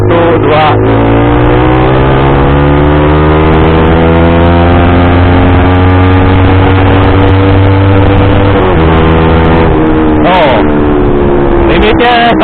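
A Honda CBR 150R motorcycle engine with a remapped ECU revs loud and close, its pitch climbing steadily toward high rpm and then dropping back before rising again, with no talk over it.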